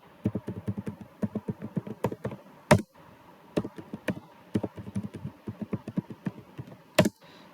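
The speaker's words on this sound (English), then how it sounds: "I'm just giving my password" Password typed on a computer keyboard, quick bursts of crisp key clicks with short pauses and a couple of sharper heavy keystrokes, close and alone.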